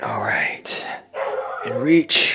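A dog barks and whimpers in a couple of short bursts close by, mixed in with a person talking through a workout.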